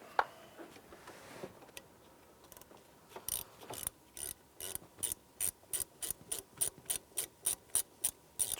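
A socket ratchet snugs up knock sensor bolts on a 2007-2013 Acura MDX engine, giving a steady run of crisp, evenly spaced clicks that begin faintly and grow louder and closer, with no talking.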